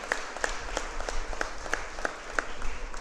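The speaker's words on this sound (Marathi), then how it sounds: "सर्व बार काउन्सिल मेंबरसाठी जोरात टाळ्या वाजवून आपण त्यांचे स्वागत करतो" An audience at a gathering for newly appointed notary lawyers applauds to welcome bar council members, the claps coming in a fairly even, rhythmic pattern at moderate loudness, with no speech.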